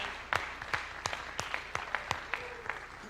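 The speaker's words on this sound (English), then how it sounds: "I give them a big clap to the parents there" Sparse, fairly faint clapping from a small number of people at a high school spring sports awards night, with distinct separate claps in an uneven rhythm.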